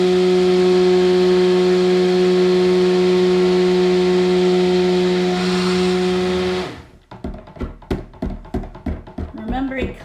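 A blender processing minted pea soap: a loud, steady whining motor hum runs for several seconds and then cuts off abruptly, followed by a person talking.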